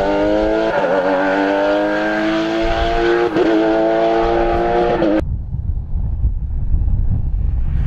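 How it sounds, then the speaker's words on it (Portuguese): Porsche rally car from a Portuguese rally stage taking a famous bend, engine loud and close with rising revs through several gear changes, then cutting off abruptly as it passes, leaving faint wind rumble. "Aqui na passagem pela famosa curva do tanque, o Porsche de Luís Pimentel."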